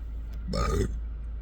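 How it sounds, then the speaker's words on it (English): A single close, throaty burp lasting under half a second, rising out of a quiet room hum and fading back into it. "Still burping a lot."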